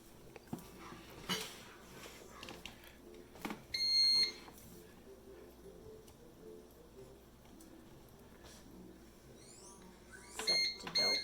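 A bread machine beeps as its dough setting is chosen, with high electronic tones near the start and a cluster of quick beeps toward the end, among kitchen clatter in a quiet room.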